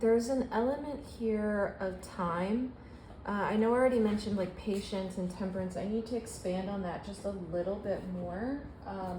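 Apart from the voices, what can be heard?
None of the usual background noises is heard.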